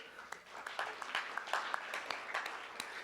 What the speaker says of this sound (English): If you hear something that you like, can you clap for me too?